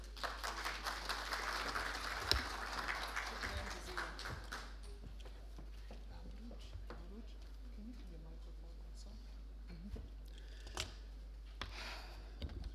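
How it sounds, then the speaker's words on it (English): Round of applause from an audience at an entrepreneurship and youth employment event: dense, close clapping for about four seconds, then dying away to a few scattered claps and room quiet, with a voice speaking later. "let's give her a round of applause"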